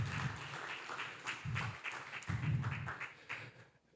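Scattered audience clapping at a talk on the future of the legal profession, a thin patter of hands that swells and fades in uneven bursts over about four seconds, moderately distant with no voices on top.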